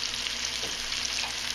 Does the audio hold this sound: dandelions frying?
yes